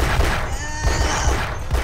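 Rapid gunfire fills a video-game fight against security guards, a dense, continuous rattle of overlapping shots lasting the whole moment with no talk.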